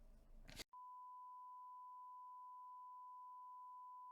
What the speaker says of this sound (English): Finally, a bleep that isn't from you.